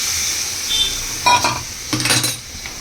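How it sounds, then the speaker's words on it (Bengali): Hot water goes into frying spiced oil in a pan, setting off two short, loud bursts of hissing sizzle close by, with light stirring and utensil clinks around them. "এবার আমি যে গরম জলটা এর মধ্যে দিয়ে দেবো।"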